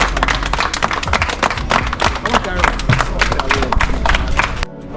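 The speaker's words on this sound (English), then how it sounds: "we'll give him a round of applause, country" Quick, uneven clapping from a small group of people gathered outdoors in a street neighborhood, a brisk round of applause mixed with voices that cuts off abruptly near the end.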